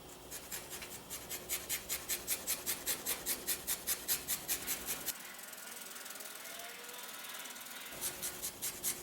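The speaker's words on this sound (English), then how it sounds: "I happen to have some whole nutmeg cloves here, so I'm going to grind that fresh" Whole nutmeg being grated fresh gives a rapid, rhythmic rasping scrape, with about twenty quick strokes close to the microphone that stop partway through, leaving quiet background.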